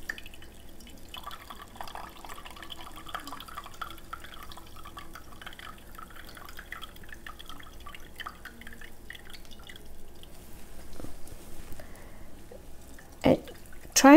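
Almond milk drips and trickles through a strainer as the soaked pulp is slowly squeezed by hand, giving faint, scattered liquid patters, with a couple of sharper splashes near the end.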